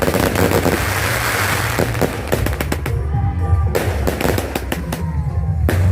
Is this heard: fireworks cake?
yes